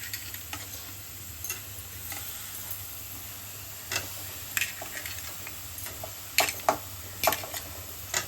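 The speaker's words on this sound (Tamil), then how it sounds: "இதை பத்தியா கட் பண்ணி வச்சிருக்க மஷ்ரூமை போட்டுக்கலாம்." Sliced mushrooms stirred in a hot pan for mushroom gravy, giving a soft steady sizzle broken by scattered scraping and tapping of a spoon against the pan.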